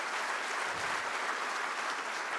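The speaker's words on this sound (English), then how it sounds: "Let's give them a big round of applause" An audience at the 2024 Infosys Prize Ceremony applauds the laureates, giving sustained, dense clapping at a constant loud level, unaccompanied by speech.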